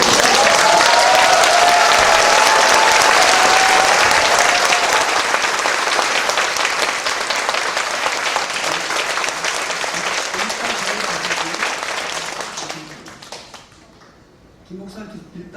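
A church congregation breaks into loud, sustained applause at a pastor's installation service, dense clapping filling the room for about twelve seconds before quickly thinning out and stopping, with a faint voice beneath.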